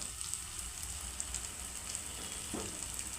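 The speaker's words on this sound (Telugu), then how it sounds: "ఇలా ఆయిల్లో మొత్తం ఫ్రై కానివ్వాలి టమాటా మొత్తం మగ్గిపోవాలి" Tomato frying in hot oil for a dried prawn curry, a soft, steady sizzle with faint crackles and an occasional stir, close and quiet with no talking.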